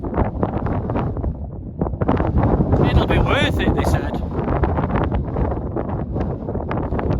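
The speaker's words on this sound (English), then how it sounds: "It's too windy to make a brew." Strong 50mph wind on the Clougha Pike hilltop in the Forest of Bowland buffets the microphone in heavy, rumbling gusts while someone speaks over the roar.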